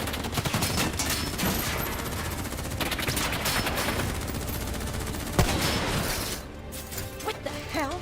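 Dense, continuous automatic gunfire and bursts of shooting in Call of Duty Black Ops III, loud and sustained with overlapping shots, easing slightly near the end.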